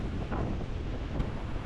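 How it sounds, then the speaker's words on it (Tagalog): Strong wind buffets the microphone on a beach in Boracay, a steady loud low roar with gusting rumble and surf wash beneath, no voices. "Lakas pa rin yung hangin."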